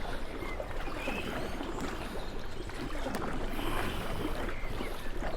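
Kayak paddling through water in the VR game Kayak VR Mirage, a steady wash of splashing and rushing water with repeated paddle strokes, loud and close, no voices.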